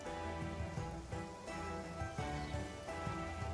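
Rain falling upwards in the video game Genshin Impact, a steady hiss of drops that runs the whole time under layered game music with no one talking.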